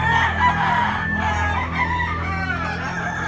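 Roosters and hens at a gamefowl market in Tabunok, Cebu, including a yellow-legged bulik stag, crow and cluck loudly and continuously, several birds overlapping close by with steady low background noise.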